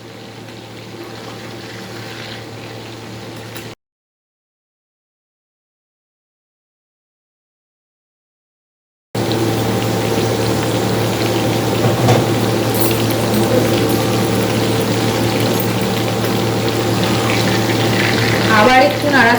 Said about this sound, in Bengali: ঢাকনাটাকে তুলে এবার আলু পটলগুলোকে একটু নাড়িয়ে নিলাম, যাতে পুড়ে না যায় বা লেগে না যায়।